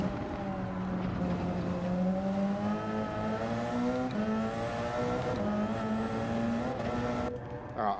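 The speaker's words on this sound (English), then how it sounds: "One of the greatest race cars ever made." A Porsche 919 race car engine in Gran Turismo 7 holds a steady, loud, high-pitched drone, its tone climbing gradually through gear changes, running continuously up close with no talking.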